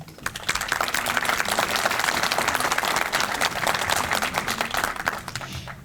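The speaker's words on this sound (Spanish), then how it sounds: "Un aplauso, por favor." Applause from an audience at a book presentation at the Instituto Politécnico Nacional, a dense, steady wash of many hands clapping that holds for several seconds before easing off at the end.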